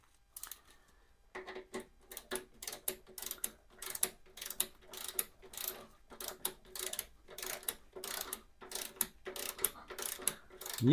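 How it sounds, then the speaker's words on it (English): Torque wrench ratchets as bolts are tightened on the front master cylinder of a 1987 Honda GL1200 Goldwing, a quiet run of rapid, regular clicks close by with brief pauses between strokes. "I'm using my torque wrench because I'm going to torque these down"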